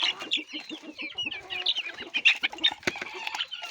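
An Arabian breed hen clucks repeatedly in short, busy bursts, with other chicken calls mixed in nearby.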